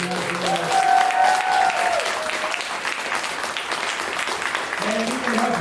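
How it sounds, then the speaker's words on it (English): A crowd at a comedy showcase claps steadily and loudly, with a few cheers and whistles rising over the applause before it gradually thins out. "How about a round of applause for Austin"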